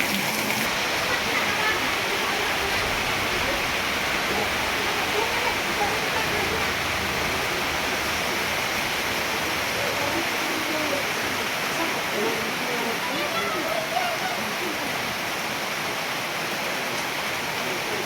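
Steady rain pours down in a constant, dense hiss, with voices faintly mixed into the wash of sound throughout.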